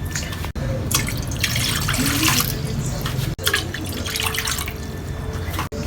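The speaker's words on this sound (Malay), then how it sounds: "Kita masukkan air 4 cawan." Four cups of water are poured into a pot for making kuih, a steady close splashing stream that runs for several seconds with brief breaks.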